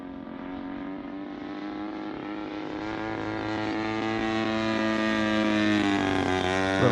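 A Seagull Models giant-scale Zero RC plane powered by an EME60 gas engine drones steadily in flight on its maiden outing, its propeller tone rising and growing louder as it closes in.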